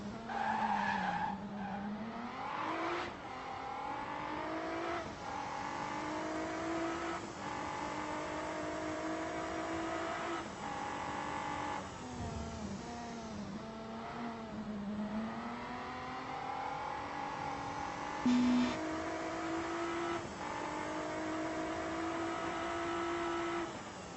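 Formula V12 race car engines in the Raceclub video game rev and whine continuously with shifting pitch, punctuated by tire skids and squeals, loud and steady throughout with no talking.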